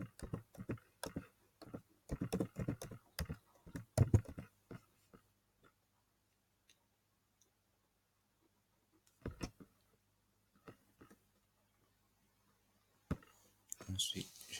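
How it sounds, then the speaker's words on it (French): Computer keyboard being typed on to enter a password, quick clusters of soft close key clicks separated by pauses, quiet and alone. "Je vais saisir mon mot de passe Facebook."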